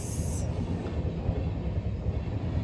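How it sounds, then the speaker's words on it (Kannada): A train rumbles past close by at a railway crossing, a steady low roar with faint rail noise, continuous and loud, no talking. "ಇವಾಗ ಬಂದಿದೆ ಟ್ರೈನು"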